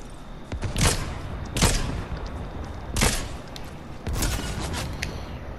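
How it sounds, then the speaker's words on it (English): Gunshots in a video game, heard as four or five sharp, loud bursts spaced a second or so apart, the last a short cluster, over a steady low game ambience. "Who the fuck is shooting me now?"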